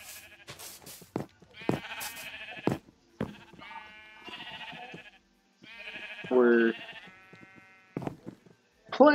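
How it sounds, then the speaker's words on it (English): Sheep on a Minecraft sheep farm bleat repeatedly in short, wavering calls. Several bleats follow one another at moderate loudness, with brief pauses and some talk between them. "made me a sheep farm over here"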